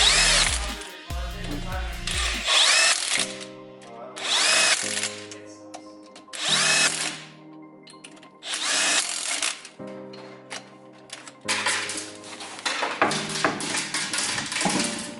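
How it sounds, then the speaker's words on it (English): Power tool, likely an impact driver or drill, bolting 25mm thick wheel spacers onto a car hub, heard as four loud, close bursts of whirring and rattling, each a second or two long, separated by quiet pauses. "bolt these spacers on, and bolt the new wheel on"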